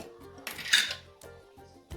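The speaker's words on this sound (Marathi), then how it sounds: "लोखंडी तवा घेतला आहे मी." An iron tava griddle handled in a home kitchen, with several sharp metallic clanks and scrapes in quick succession, close and fairly loud, no voices.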